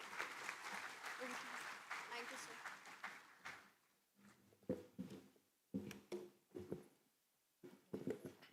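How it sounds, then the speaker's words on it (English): Audience applause welcoming Dr. R.M. Chitnis at a live Shubharambh 2024-2025 event, moderately loud for the first few seconds, then thinning into scattered claps and brief bursts as voices speak. "Let us welcome Dr. R.M. Chitnis with a thunderous applause"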